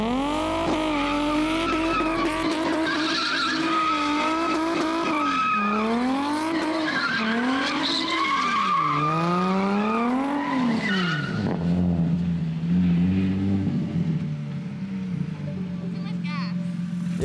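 A Nissan 350Z on freshly installed coilovers drifting, with long loud tire squeals that rise and fall in pitch over a straining engine, ending in lower engine noise as the slide stops; voices are heard along with it.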